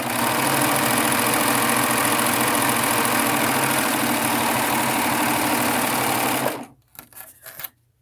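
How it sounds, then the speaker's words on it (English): A Baby Lock Triumph four-thread overlock machine sews a seam with a fast, continuous buzzing whir for about six seconds, then stops abruptly, followed by a few faint clicks and handling noises. "I'm going to go ahead and sew this seam"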